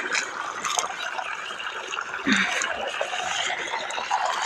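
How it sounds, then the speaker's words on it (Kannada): Irrigation water runs steadily into a sugarcane field, a continuous rushing and trickling wash that stays even throughout at moderate loudness, with no voices. "ನೀರು ಬಿಟ್ಟಾರ ನೋಡ್ರಿ"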